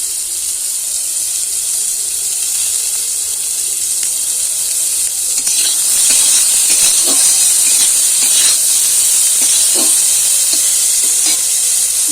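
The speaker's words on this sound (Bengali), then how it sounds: "এবার এগুলো ভালোভাবে ভেজে নেব" Vegetables with carrots frying in a pan for egg chow mein, a loud, steady hiss of sizzling oil that swells midway, with faint stirring scrapes and no voices.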